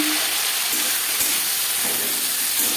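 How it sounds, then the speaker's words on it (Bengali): Chopped onion fries in oil in a wok that was used earlier for frying fish, giving a steady, dense hiss that carries on evenly with no clear stirring strokes. "মাছ ভেজে নেওয়া কড়াইতে আবারও তেল দিয়েছি দিয়ে দেবো পেঁয়াজ কুচি"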